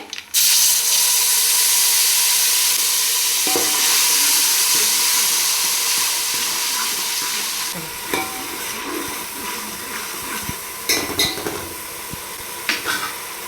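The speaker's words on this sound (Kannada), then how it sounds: "ಈಗ ಹುಣಸೆ ಹುಳಿ, ಇದಕ್ಕೆ ಹುಣಸೆ ಹುಳಿ ಹಾಕ್ಬೇಕು ಒಗ್ಗರಣೆಗೆ." Tamarind added to a tempering of curry leaves and dried red chillies in a pan for Karnataka-style obbattina saaru sizzles loudly and steadily, easing off later into quieter bubbling with a few scraping stirs and clinks.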